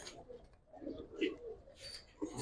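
Pigeons of mixed breeding stock, giribaz and coloured fancy birds, coo softly in a loft in a few low, rounded bursts, with faint background noise between the calls.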